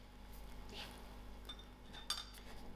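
A spoon stirs sugar syrup with salt in a pot for pineapple pickle, giving faint, sparse metallic clinks over a quiet, low background hum.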